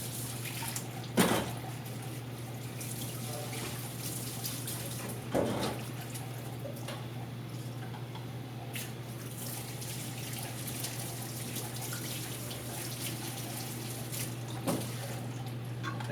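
Water rinses color film inside a Jobo developing tank, a faint, steady flowing wash over a low hum, broken by a few brief knocks.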